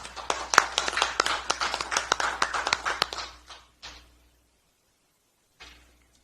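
An audience at a political party event gives welcoming applause for a newly recruited social welfare expert, a thin round of claps that fades out after a few seconds, followed by near silence and a faint stray sound.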